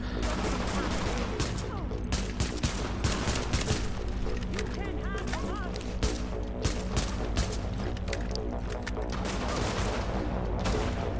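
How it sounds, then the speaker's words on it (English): Dense gunfire from a sniper battle in the video game Tom Clancy's The Division: sharp shots and bursts crackle nonstop for the whole stretch, loud and layered over a steady rumbling background. "We are in one hell of a sniper battle"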